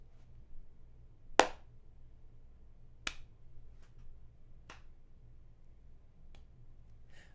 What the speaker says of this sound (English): Okay, there's 4 claps.